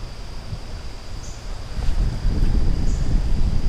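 Wind blowing across a river while fly fishing for wild brown trout in June, a steady low rumble of gusts against the microphone that swells louder midway and stays strong, with no talk.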